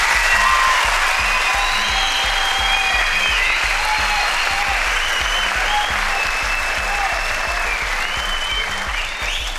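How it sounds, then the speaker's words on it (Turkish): A studio audience at a televised talent show bursts into loud, sustained applause, dense clapping mixed with shouts and whistles that holds at full strength for the whole stretch. "Evet diyenler alkışlasın."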